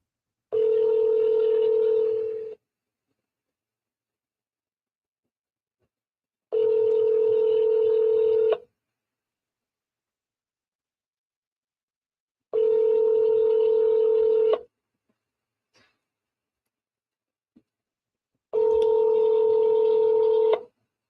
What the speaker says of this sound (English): Think there's a voicemail? It's a long ringing process. Like 6 rings.